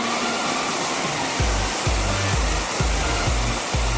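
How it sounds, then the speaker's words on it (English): Steady broadband rush of an outdoor water feature flowing beside an office building at night, a continuous splashing wash with a run of low rhythmic thumps in the second half; no one speaks. "And this is that water feature we saw from before."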